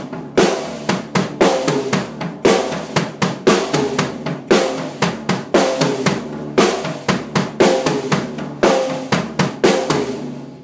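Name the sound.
drum kit pattern, right hand on floor tom, snare and high tom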